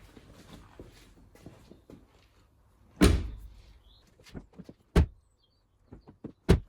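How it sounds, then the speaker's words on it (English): A car door is shut on an older car under rebuild, one heavy thud followed by several sharper knocks and clunks at irregular intervals, fairly close in a quiet space. "I'm going to close the door."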